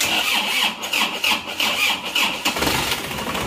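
A car left unused for three years cranks and fires into life, the starter whirring briefly before the engine catches and settles into a steady, close idle.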